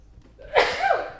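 A single sharp sneeze bursts out close by after a quiet moment, with a breathy intake leading into the explosive release.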